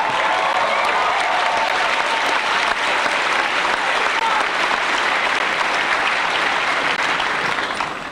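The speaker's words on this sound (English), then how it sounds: "You now can cheer yourself on that." A graduation audience at a college commencement cheers and applauds, a broad, sustained roar of clapping and crowd noise that holds steady throughout.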